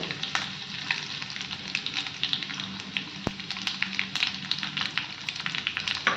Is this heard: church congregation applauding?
no